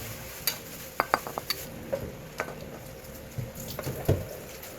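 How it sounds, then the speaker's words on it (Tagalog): Soft clinks and scrapes of a ladle against a metal pot of boiling food, with gentle sloshing of liquid, irregular and close by. "Sandok na tayo."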